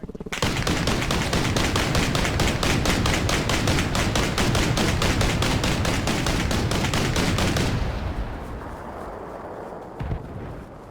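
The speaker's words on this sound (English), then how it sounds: "he was shooting up over my head" Sustained rapid automatic gunfire in the ARMA Reforger video game, loud dense bursts for about seven seconds, then an abrupt stop followed by quieter rumbling and a single thump.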